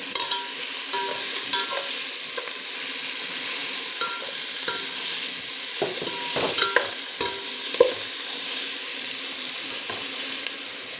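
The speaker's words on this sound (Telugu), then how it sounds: "ఉల్లిపాయలు కొంచెం దోరగా వేస్తున్నాము" Onions frying until golden in a pan for dum biryani give off a steady, close sizzle, with occasional clinks and scrapes from a stirring spoon and no talking.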